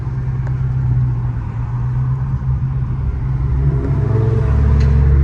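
A Dodge Charger Scat Pack driving in traffic under a bridge, its engine a loud, steady low rumble that swells slightly toward the end as it picks up.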